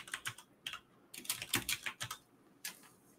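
Quiet typing on a computer keyboard: several quick bursts of key clicks with short pauses between them, close by and with no talking.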